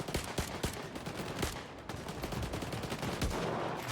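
Dense, rapid gunfire crackles nonstop in the video game STALKER 2, with overlapping automatic bursts and single shots, loud and close, without any talking.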